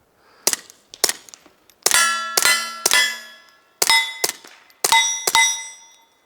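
A suppressed .22 GSG 1911 pistol is fired quickly at steel targets outdoors, with sharp muffled pops each followed by a ringing metallic clang, coming in quick bursts with short pauses between.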